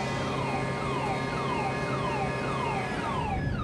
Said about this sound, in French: Cette alarme indique qu'il faut vérifier l'un des 2 énormes moteurs diesel du Cristobal